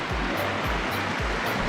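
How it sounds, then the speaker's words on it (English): A mountain river pours into a partly frozen lake, giving a steady, broad rushing of water that holds at an even level throughout, with low rhythmic surges and no voices. "What a beautiful river."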